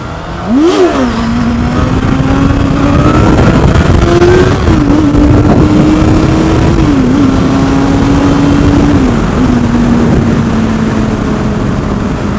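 A motorcycle engine roars steadily and loudly, with a sharp rev at the start and pitch shifts as it accelerates into a wheelie and shifts gears.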